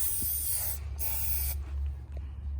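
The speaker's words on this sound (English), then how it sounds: "you'll just take it and you'll just spray it right around here" A close aerosol can of penetrating oil hisses in two bursts on a Cadillac, a short one then a longer steady one, with a low hum running underneath throughout.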